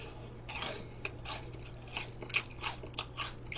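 Crunchy fried tempura is bitten and chewed close up, a few crisp crackling bites over a low steady hum, with no talk.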